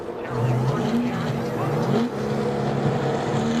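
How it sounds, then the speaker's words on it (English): NASCAR stock cars working through pit road at the 2000 Bud Shootout, engines droning and rising steadily as cars come in and pull away, with a commentator talking over the loud continuous motor noise. "here comes Labonte and Jarrett in now as the others get their speed up"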